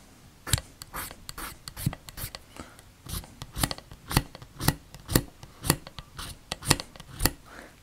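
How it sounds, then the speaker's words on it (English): A hacksaw blade scraping the coating off a fire steel rod, sharp rasping strokes repeating at a steady rhythm, close and distinct, with no talking. "Let's get this coating scraped off and be fair about it."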